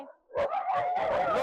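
A dog, among a group of dogs, gives a whining yelping bark close by in an outdoor street encounter, a short loud vocal burst after a brief lull.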